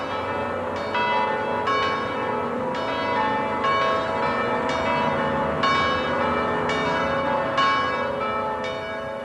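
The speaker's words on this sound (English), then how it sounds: "The bells of the Sacré-Cœur in Paris, solemnly pealing." Church bells of the Sacré-Cœur in Paris pealing solemnly, overlapping rich tolls struck in a slow repeating rhythm, loud and continuous with a long ringing sustain.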